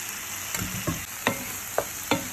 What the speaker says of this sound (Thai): ผัดให้เข้ากันจ้ะ